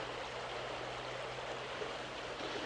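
A river flows steadily with a dense, even rush of water, broad and continuous throughout, with no voices.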